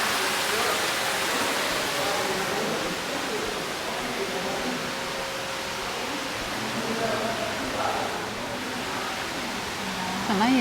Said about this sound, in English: Down the water goes.